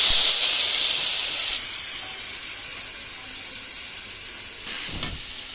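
Vegetables hit hot oil in a pan with a bright, loud hiss that settles into a steady, fainter sizzle, ending with a small clatter near the end; no voices.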